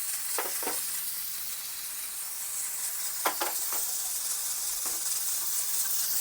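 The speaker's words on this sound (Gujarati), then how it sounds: "આપણે ચટણી ઓગળી ગઈ છે તો એને ગરમ કરવા મૂકી દઈએ આપણે" Dabeli chutney heats in a pan, giving a faint, steady hiss and sizzle with a few soft clicks of a spoon, heard alone with no talk.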